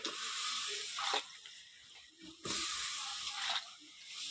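Small cut eggplants dropped into a pan of fried spiced masala, giving two loud hissing sizzle bursts close by that fade into softer crackling between them.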